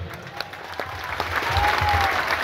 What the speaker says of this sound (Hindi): आपण मानक बहुमूल्य मतामत को करताली माध्यम रे जणांतु